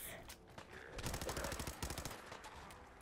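Gun firing in Fallout 4, a rapid burst of repeated shots forming a dense rattling volley at moderate level, with a short pause before a second run of rounds.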